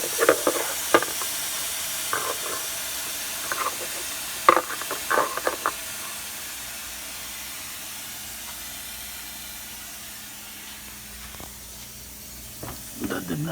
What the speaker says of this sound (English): Ooh, sounds like something is leaking.